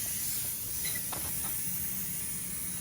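Air rushing out of a car tire with the valve stem removed during a tire change, a steady continuous hiss with a few faint clicks, no talking.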